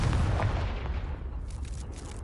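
A Confringo fire-blast spell exploding in the Hogwarts Legacy game, one heavy booming burst with a deep rumbling low end that swells up front and then decays into a fading roar, with no talk over it.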